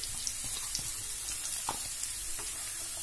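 Chopped onions sizzling and frying in a pan while cooking a Kerala-style okra masala, a steady close crackle with a few clinks of stirring, no voices.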